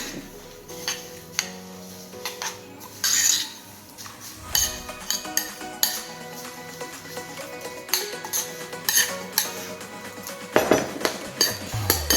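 A spoon stirs chia seeds with banana in a bowl, giving repeated light clinks and scrapes against the dish in an irregular rhythm, close and moderately loud, with no talking.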